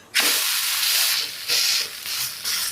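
A chicken kari dosai with beaten egg spread on top hisses on a hot griddle after being flipped, the sizzle bursting in loud pulses that swell and ease several times.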